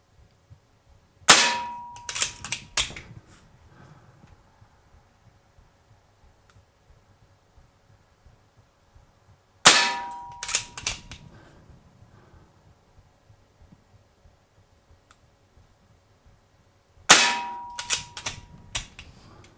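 Diana Bandit .177 PCP bolt-action pellet pistol fired three times, each sharp close crack followed by a quick metallic clatter and a few fading clinks, separated by long quiet gaps.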